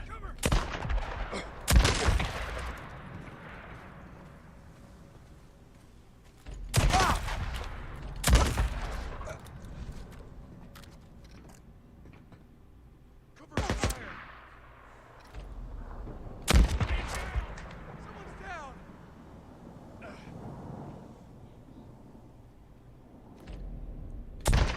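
Gunfire in a shootout in the video game Days Gone: several loud sharp shots and short bursts spread across the stretch, separated by quieter ambient rumble and scattered smaller reports.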